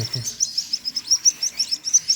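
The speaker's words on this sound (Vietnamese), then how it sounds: "còn chim này là chim mới nở hồi sáng với hồi hôm qua, với chim 3-4 bữa" Newly hatched chicks of a small bird kept as hatchlings give a steady run of thin, high, rhythmic peeps, fairly faint and repeating several times a second with no talk.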